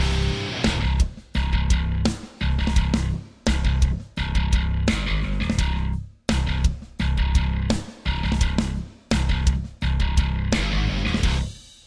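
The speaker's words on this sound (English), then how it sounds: "the bass is only playing the first half of the motif" A bass guitar repeats a stripped-down riff, holding mostly on the root note with one short lick, in a steady rhythm of bursts separated by brief gaps, loud and up close with no other voice over it.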